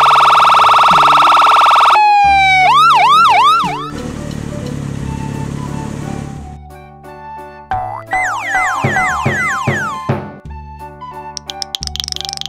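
Toy ambulance siren sounding electronic and loud: rapid wailing sweeps, a buzzing stretch, then more warbling siren patterns cut into short repeated bursts.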